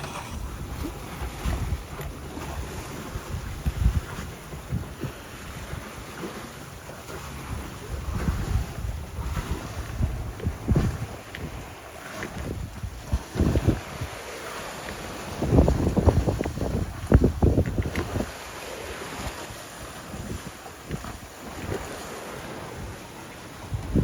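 Breeze of about 12 knots buffeting a sailboat gently cruising along a coastline near a marina, steady wind rush with water wash and gusts that swell louder midway.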